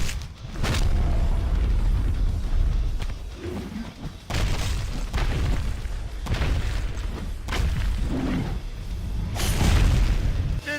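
Batista Bomb slam in WWE Immortals with heavy booming impacts and thuds repeating through a dense, loud game soundtrack, several big hits spaced a few seconds apart.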